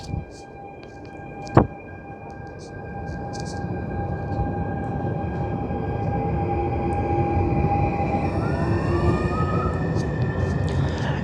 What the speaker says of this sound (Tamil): ஸோ ட்ரெயின் மூவ் ஆகிடுச்சு.